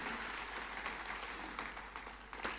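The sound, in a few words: congregation applause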